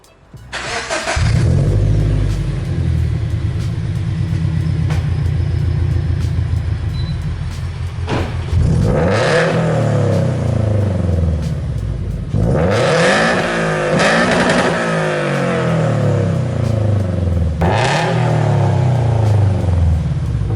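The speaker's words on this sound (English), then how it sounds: "We'll do a warm start and a couple revs for you guys" A Subaru BRZ engine cranks and catches on a warm start, idles with a steady rumble, then is revved three times, each rev rising sharply and falling back to idle.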